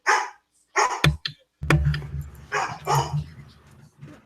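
A dog barks in a few sharp bursts with brief whimpering gaps, loud and near, while people chat in a studio-style show around it.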